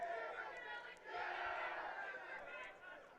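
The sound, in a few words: Hornet bench cheering at a soccer final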